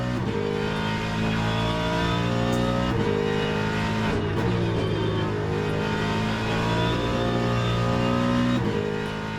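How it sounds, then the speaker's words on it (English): A race car in the Le Mans Ultimate video game runs steadily with its engine droning loud and close, the pitch wavering and stuttering slightly as traction control cuts in, with no voices. "You can kind of hear that traction control doing its thing."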